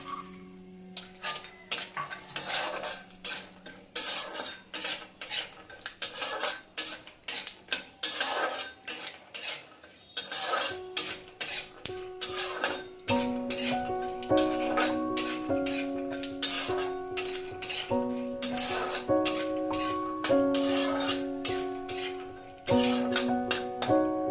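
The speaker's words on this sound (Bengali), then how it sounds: "বাদামগুলোকে ভেজে নিতে হবে হালকা" Peanuts being lightly fried and stirred in a pan while cooking chirer poha, giving repeated clinks and scrapes of a utensil against the pan in an irregular rhythm, close and fairly quiet, with no talking.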